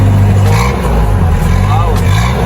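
A Mazda Bongo Double Cab with a 2.2 diesel engine runs loudly and close, a heavy low rumble with rising revs, while a voice speaks over it.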